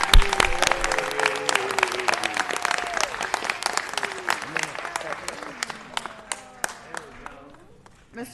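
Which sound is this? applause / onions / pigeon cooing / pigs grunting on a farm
applause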